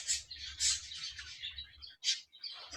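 A pet bird chirps in quick bursts of bright, high tweets, close and fairly clear, with short pauses between calls and a low hum underneath.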